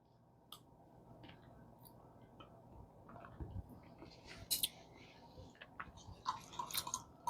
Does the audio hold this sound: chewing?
yes